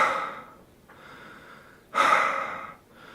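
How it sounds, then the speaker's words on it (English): Loud mouth breathing close to the microphone, long raspy inhales and exhales in a slow rhythm with a stronger breath near the middle, heard alone. "mouth breathing"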